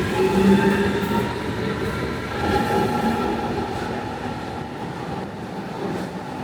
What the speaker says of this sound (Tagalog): Ito yung train na sinakyan namin. Regional train siya.